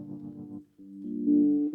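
A synthesizer keys patch plays a few short sustained notes in sequence, warm and mellow, with a brief gap between the first phrases.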